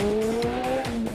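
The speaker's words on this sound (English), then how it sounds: "1985 Ford RS200 Evolution. Turbocharged with 500 kilowatts of power" A turbocharged 1985 Ford RS200 Evolution rally car with 500 kW on a tarmac event stage, its engine droning steadily at high revs for a brief moment with a faint edge of tire noise.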